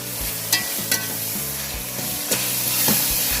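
Green chillies and onions sautéing in a pan for Hyderabadi chicken biryani, a steady loud sizzle with periodic stirring scrapes and clinks.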